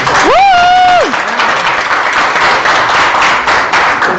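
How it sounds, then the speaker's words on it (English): An audience breaks into applause during a sumo ring event: a rising whoop opens, then continuous clapping and crowd noise sustain, fairly loud and dense, for several seconds. "Round of applause."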